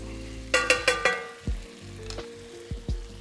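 Ramen sauce made from the leftover pan ingredients being stirred, with a row of quick scraping knocks followed by scattered softer taps over a low steady kitchen hum and faint sizzle.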